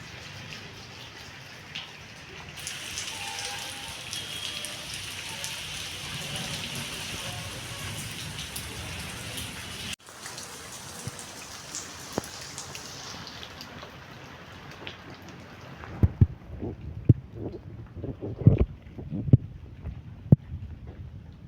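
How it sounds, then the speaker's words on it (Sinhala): Heavy evening rain pours in a dense, steady wash, then thins into scattered drips and louder close taps on a surface. "ඉතින් හවස නම් අපේ පැත්තට හයියෙම වැස්සා."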